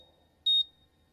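A quiz buzzer at a live junior quiz competition gives one short, clean electronic beep, clear against a quiet background.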